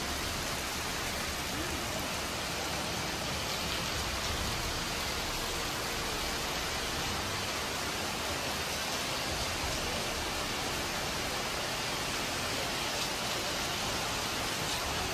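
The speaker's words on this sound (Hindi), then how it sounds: "ज़बरदस्त बारिश हो रही, खूब बारिश बरस रही।" Heavy rain pours steadily as a dense, even roar of drops with no pauses, loud and close, with no voices or other sounds over it.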